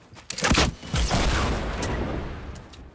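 Rapid bursts of SCAR assault rifle fire in a Fortnite battle royale match, loud and close, with dense overlapping shots early that settle into a rumbling tail.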